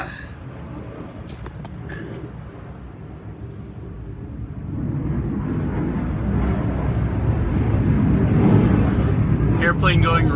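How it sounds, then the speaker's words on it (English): A broad, rumbling roar of an airplane passing overhead builds gradually and grows louder toward the end, steady and continuous. "Airplane going right overhead."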